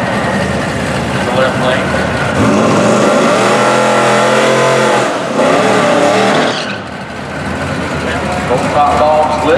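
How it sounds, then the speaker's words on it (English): A big burnout from a powerful supercharged car: a loud, roaring engine revs hard under screeching, spinning tires, dipping briefly before surging again, with a voice speaking over it. "Big old nasty burnout"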